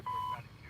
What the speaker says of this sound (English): Automatic alarm.